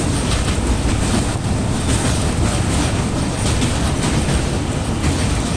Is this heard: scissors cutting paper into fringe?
no